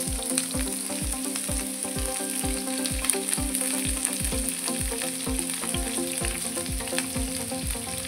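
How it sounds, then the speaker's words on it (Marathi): Onion, capsicum, cabbage, carrot and tomato frying in a pan for tawa pulao, a constant sizzle with rhythmic scraping stirs of a spatula about twice per second. "तर ह्या भाज्या सगळ्या आपल्या आधी आपण फ्राय करून घ्यायचे"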